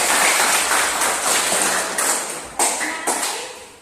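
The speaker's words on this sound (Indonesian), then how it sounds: "tepuk tangan untuk teman-teman" Classroom students clapping for their classmates, a loud, close burst of applause in short waves with sharp restarts over about four seconds.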